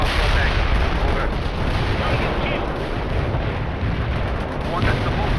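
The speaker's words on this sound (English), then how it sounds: "Mortars will fire." Mortar and artillery fire in the war strategy game World in Conflict, a dense, continuous roar of blasts and rumbling booms that stays loud throughout, with no clear gaps between impacts.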